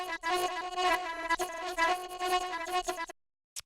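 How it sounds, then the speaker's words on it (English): A small granulator processing a glitchy vocal sample, a dense, shimmering stack of sustained tones that flickers and stutters for about three seconds, then cuts abruptly to silence with one faint blip near the end. "the first sound we have here is this little granulator thing"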